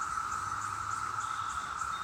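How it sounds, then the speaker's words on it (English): A steady, high cicada drone fills the woods, continuous and even, with faint pulsing chirps layered over it and no voices. "But that eerie sound you hear, that is the cicadas."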